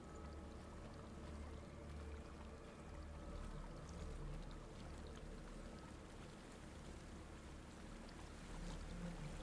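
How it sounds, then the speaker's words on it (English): A waterfall in Hellblade: Senua's Sacrifice rushes steadily inside a cavern, a continuous broad roar of falling water heard alone for several seconds. "There's a waterfall."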